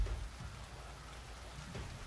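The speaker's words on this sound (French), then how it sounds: "Déjà, la pluie, c'est vraiment bien." Rain falls in the post-apocalyptic city-builder game Homeseek, a soft, steady hiss of rainfall on surfaces, faint and unbroken with no speech.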